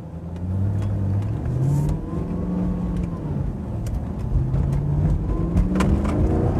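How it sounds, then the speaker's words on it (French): A 420-horsepower car of about 1.5 tonnes revs its engine hard, the pitch sweeping up and falling back across several rising pulls, loud and close with a steady growl underneath. "Le moteur est bien rempli, il est coupleux et il est rageur à la fois."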